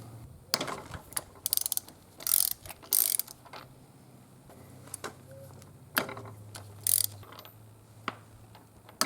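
Sharp ratchet clicks sound in short bursts from a socket wrench loosening spark plugs on a Mercury ProXS 115 outboard, separated by quiet pauses with faint metallic handling and a low hum, close up, with no talking.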